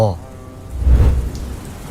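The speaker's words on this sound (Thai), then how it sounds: "ฝนกลับได้เริ่มตกลงมาอย่างหุนแหงพร้อมกับเห็นให้อากาศก็เริ่มหนาวขึ้น" Heavy rain pours in a short film scene, a dense, steady wash with a swelling low rumble near the middle, loud and close with no voices.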